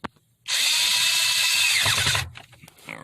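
A power drill drives screws while a driver's sun visor is replaced in a 2010 Toyota Highlander. A loud, close, steady whir runs for nearly two seconds, then slows and winds down, followed by a few faint clicks and handling noises.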